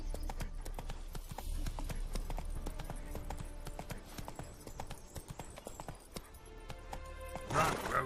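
Video game horse hooves gallop in a steady, rapid clip-clop rhythm throughout, with a brief whinny near the end, close and prominent over a faint background.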